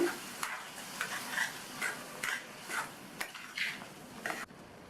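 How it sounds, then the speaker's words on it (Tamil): A spoon stirs a thick tomato, onion and curd gravy in a pan on the stove, with a soft scraping, light sizzle and a few gentle rhythmic sweeps, fairly quiet and with no talk. "இதை நல்லா ஒரு தடவை மிக்ஸ் பண்ணி விட்டுட்டு"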